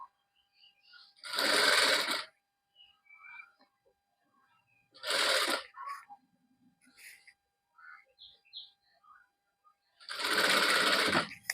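A sewing machine stitches a nightie in three separate short bursts of fast, buzzing needle action, close by, with quiet pauses between runs.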